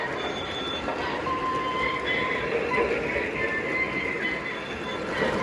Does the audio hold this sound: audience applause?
no